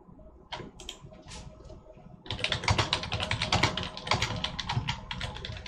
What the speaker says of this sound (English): Sorry that my keyboard is loud.